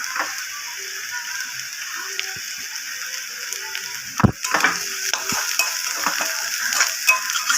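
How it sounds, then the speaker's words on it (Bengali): Chopped ginger and garlic frying in oil with green and dry chillies in a pan, a steady soft sizzle with clicking spatula scrapes and a sharper knock midway, close, no talking. "এবার আমি আদা রসুন যে কুচিয়ে গেছিলাম সেটা দিয়ে দিচ্ছি"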